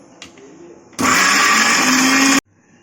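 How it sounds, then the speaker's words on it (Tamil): A mixer grinder whirs loud and steady for about a second and a half as it grinds fried ingredients for a mutton dish, starting and stopping abruptly, with quiet room sound before and after. "இப்போ நம்ம மிக்சியில் போட்டு ஆட்டிக்க போகிறோம்"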